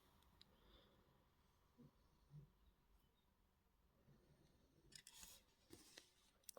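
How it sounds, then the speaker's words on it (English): A small cutter snips thin jewellery wire while wire wrap earrings are made, giving a few faint, quiet clicks and a sharper snip near the end. "I'm going to cut that wire"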